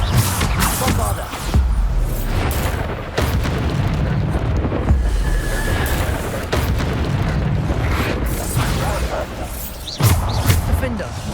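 Bombarda blasting spells go off in Hogwarts Legacy, a dense run of loud booming explosions and crashing bursts layered over continuous game combat noise, with fresh impacts hitting about every second or two.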